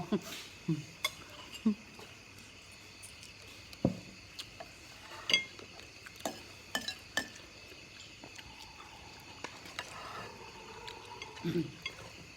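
Soft metallic clanks and clinks come at irregular intervals, like a pot being moved and knocked about in a quiet room.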